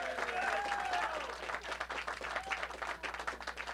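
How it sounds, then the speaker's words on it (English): Comedy club crowd applauding Ben Fuller, a cable company worker, with steady, fairly close clapping and a few cheering voices at the start, thinning gradually into looser claps toward the end. "How about a big round of applause for Ben?"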